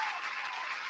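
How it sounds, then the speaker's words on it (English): A round of applause from a crowd, steady broadband clapping filling the whole second at moderate, fairly distant level with no break or build. "I want to give y'all a round of applause"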